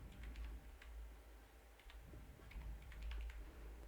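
Quiet typing on a computer keyboard, a loose run of light clicks in small clusters with short pauses between them, faint over a low background hum.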